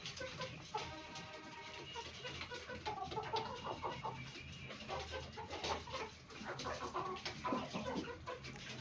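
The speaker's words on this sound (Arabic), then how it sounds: "طبعا الفراخ اللي واقفين فوق دول كلهم خايفين من الوحش المتوحش" Chickens cluck and squawk in a busy farmyard, a dense, continuous mix of overlapping bird calls with some rooster-like cries and other animal noise, fairly close and steady throughout.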